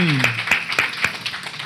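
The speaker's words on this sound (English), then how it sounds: "Let's have another round of applause for Steve, Marcy, and Kamara" Audience applause at a Sunday celebration gathering, a short burst of scattered hand claps in an irregular rhythm, fairly near, with voices cheering and talking over it.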